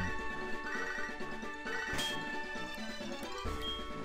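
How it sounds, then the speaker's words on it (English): A steady electronic phone ringtone melody from the Pokémon Gold game plays continuously over a busy backdrop of other tones, moderately loud and unbroken throughout. "This'll get the phone to quit ringing."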